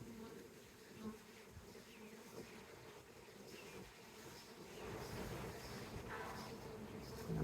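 A rescued honey bee swarm in a hive at Union Market in Washington, DC, fills the air with a dense, continuous buzzing that swells a little louder toward the end.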